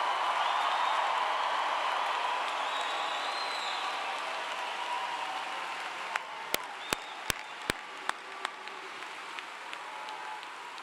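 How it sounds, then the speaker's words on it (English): A large crowd applauds the new graduates at Clemson University's spring 2025 commencement ceremony: broad, steady applause that slowly fades, followed by a handful of sharp, isolated claps or clicks standing out near the end. "another loud round of applause for our newest graduates"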